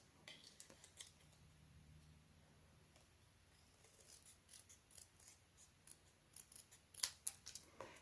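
Scissors snip paper in a series of close, crisp cuts that grow busier toward the end, over a quiet background, while cutting card stock for a handmade slimline card.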